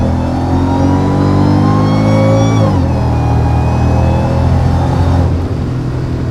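Mercedes SL55 AMG V8 engine after a tune-up with a fixed spark plug wire, loud and close, revving up then dropping back to a smooth steady idle.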